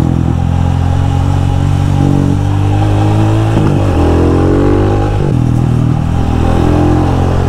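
A Rusi Classic 250 motorcycle with a 28 mm carburetor rides a winding zigzag road while overtaking, a loud, close single-cylinder engine rumble with repeated revs rising and dropping as gears change, no talking.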